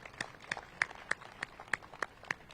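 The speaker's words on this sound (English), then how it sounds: "So let's give a round of applause for that." Scattered hand claps from a small crowd at a supermarket grand opening celebration, a thin rhythm of individual sharp claps about every third of a second, fairly faint and distant with no talk.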